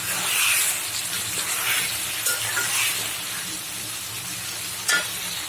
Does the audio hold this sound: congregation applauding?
no